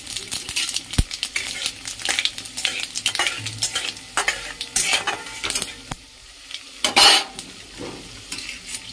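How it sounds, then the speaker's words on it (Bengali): Five-spice seeds fry in hot oil for a mango chutney, giving a loud close sizzle broken by scraping utensil strokes and clinks against the pan, with no talking. "তেল গরম হয়ে গেছে, 5 ফোড়ন দিয়ে দিচ্ছি।"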